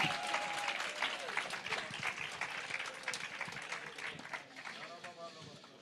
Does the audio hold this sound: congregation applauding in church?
yes